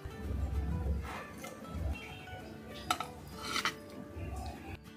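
Fish karahi is lifted from the cooking pan onto a plate with a metal utensil. Close clinks and scrapes of metal on the pan and plate come in bursts, over a low background rumble.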